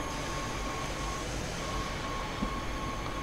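A commuter S-Bahn train in Train Sim World, on a Central German route, rumbles along steadily at low speed, with a broad, continuous wheel-and-motor drone and a faint tonal hum, and no voices.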